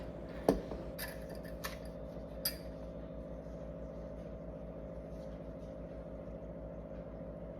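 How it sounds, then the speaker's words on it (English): Scissors snip the coiled ends of regrowing store-bought dill: four faint, crisp cuts in the first few seconds over a steady low hum, then only the hum remains. "So I ended up cutting about half of the coils off."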